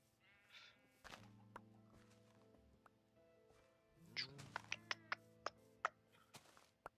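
Sheep in the Minecraft video game bleat in a few low drawn-out calls, quiet and close, followed by a series of sharp clicking ticks, with a soft voice talking throughout.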